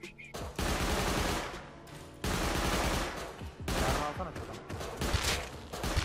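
Bursts of gunfire in the survival game Rust, loud rapid volleys in several long stretches separated by brief pauses, with a voice faintly underneath.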